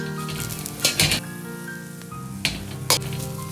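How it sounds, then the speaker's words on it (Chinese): Chili peppers, hang peppers and bird's-eye chilies, tossed in a dry wok over medium heat before pork skin is added, giving a steady soft sizzle with a few brief louder scraping clinks of the spatula. "慢慢的翻炒，炒出香味，再来炒猪皮"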